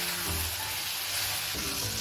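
Tomatoes with masala spices sizzle and fry in ghee for a tadka, a dense, continuous crackling close up with no voices.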